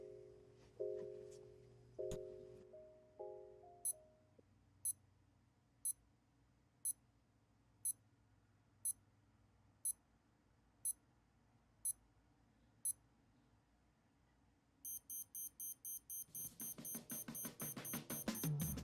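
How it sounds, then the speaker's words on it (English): Digital wristwatch timer alarm: a few low electronic tones, then a steady run of slow, evenly spaced high beeps, switching at the end to a rapid string of fast beeps, close and fairly quiet. "you hear a couple beeps, very steady, slow beeps, and then once that timer's up, it beeps very fast"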